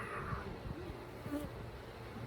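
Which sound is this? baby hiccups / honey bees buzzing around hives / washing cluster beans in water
honey bees buzzing around hives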